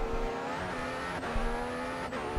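Bottas's Williams Formula 1 car at speed around the Malaysia circuit in a modded racing game: a loud, close engine scream rising steadily, broken by two sharp upshifts that drop the pitch for an instant.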